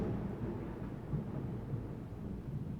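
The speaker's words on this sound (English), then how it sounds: "That thunder and lightning is really coming" Low, rumbling thunder rolls on for a few seconds in a steady, moderately loud wash with slight surges, with no voices heard.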